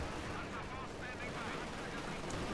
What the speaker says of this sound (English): A little bit of rocket artillery here to spice the thing up, you know.